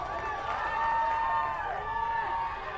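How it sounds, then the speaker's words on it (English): Crowd at a youth touch football championship match cheering in a steady, sustained roar, heard beneath a commentator talking. "Listen to the crowd."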